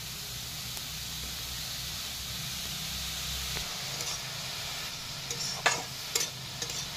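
Drumstick flowers are stirred in a hot pan, giving a soft steady sizzle and hiss with a few sharper scraping clinks toward the end, fairly quiet overall.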